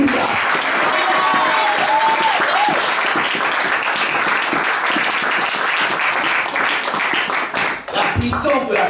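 A church congregation applauds and cheers the Lord, giving loud, sustained clapping mixed with crowd voices that continues almost without a break.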